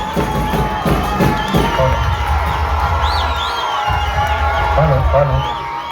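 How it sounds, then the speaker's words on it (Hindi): A crowd at an event on a new turf ground for Muslim girl students cheers, whoops and shouts to welcome a speaker to the stage, with children's high calls and voices rising over a noisy, sustained hubbub. "जोरदार तालियों से स्वागत कीजिएगा"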